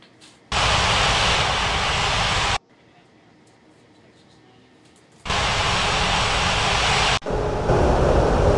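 Jet airliner engines roar in a simulated air traffic control game at Ngurah Rai Bali International while an aircraft taxis to its gate: two long, loud, steady bursts of broadband engine noise with a quieter low rumble between them.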